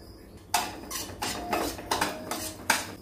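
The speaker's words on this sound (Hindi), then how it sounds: "इसके बाद हमने 100 ग्राम अजवाइन ली है, इसको भी हम भून लेते हैं।" Carom seeds (ajwain) dry roasting in a metal pan, with a series of sharp scraping and clinking strikes as a spatula stirs them, about six distinct knocks spaced irregularly over a low background.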